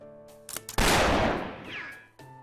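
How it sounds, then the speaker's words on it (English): Gunfire in the video game Fate Grand Order: a couple of short sharp reports lead into one loud blast. It rings out in a long echoing decay over sustained game-music tones. "We can use the ringing of my gunshots to help figure out how to get around in here."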